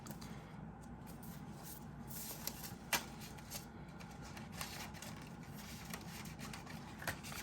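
Paper cash bills rustle and shuffle as they are handled and tucked into budget envelopes, a steady close papery rubbing with a few soft taps, no talking.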